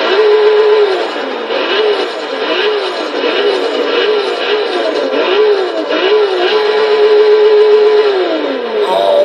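A 1992 Toyota Supra 2.0 GT twin-turbo inline-six in Forza Horizon 3, set up as a drift build, revving loudly up and down again and again, its pitch sweeping in repeated rising and falling arcs.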